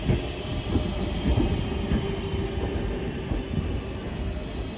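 A Cross Country train passes on the Cross City Line near Lichfield, a loud continuous rumble of wheels and rail noise with faint rhythmic clatter, steady for several seconds and free of talk.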